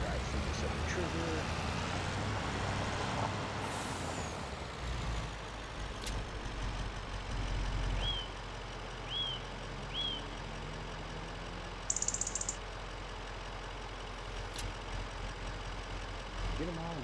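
A truck in Farming Simulator 25 hauling strapped round straw bales gives a steady low engine drone throughout, with a few faint chirps and a brief hissing burst partway through.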